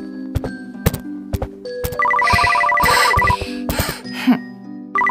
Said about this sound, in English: The ringtone upstairs.